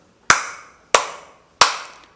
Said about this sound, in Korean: 박수 3번 치면은 끝이.